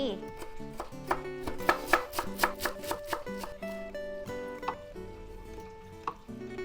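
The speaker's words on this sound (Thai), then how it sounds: "หั่นผักชี" A knife chops fresh coriander on a board: a quick rhythmic series of close taps that thins to occasional strokes, over quiet background music.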